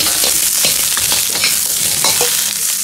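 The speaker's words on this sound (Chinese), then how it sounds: "锅中不放油，然后加入控干水分的大骨头，保持中火翻炒几下" Pork bones tossed in a dry wok over medium heat with no oil, giving a steady loud sizzle broken by repeated scraping and clattering stirs.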